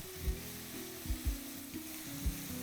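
Chopped onions with cumin and dried chilies fry in oil over a high gas flame, giving a soft, steady sizzle broken by several dull knocks of stirring.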